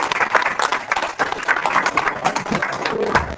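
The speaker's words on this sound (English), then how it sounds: "They're clapping for me." Audience members at an ask-me-anything session clap after the event wraps up, a loose, uneven patter of hands close by with a few voices murmuring underneath.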